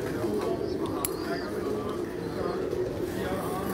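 Pigeons cooing softly in a pigeon loft used for breeding and flying birds, faint and steady amid background chatter and ambient noise, with people talking nearby.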